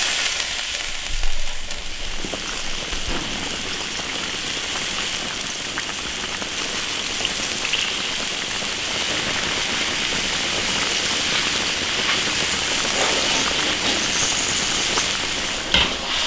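Broth hits a hot iron wok for a lamb trotter stew and sets off a loud, dense sizzle that rolls on without a break, with a few faint clinks near the start.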